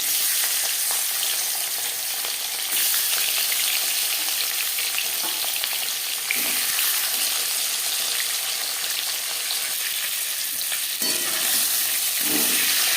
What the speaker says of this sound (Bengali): 4 চামচ রিফাইন্ড অয়েল গরম করে নিয়েছি। দিয়ে দেব ম্যারিনেট করে রাখা মাছের মাথা।